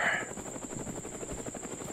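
A helicopter in the VR shooter War Dust gives a steady, faint rotor buzz that holds throughout, heard alone without voices.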